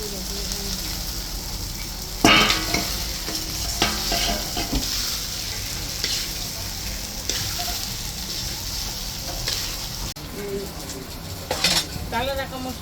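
Spice masala fried in oil in a pan for Bengali aloo dum, with a spoon stirring and scraping against the pan. Steady close sizzling runs throughout, broken by sharp metallic clinks at intervals. No talking.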